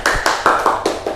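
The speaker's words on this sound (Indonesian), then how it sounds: "Beri tepuk tangan untuk Mbak Amel." Classmates in a school lesson clap in quick, even rhythm for a student, about six sharp claps in just over a second, fairly loud and close with no talking.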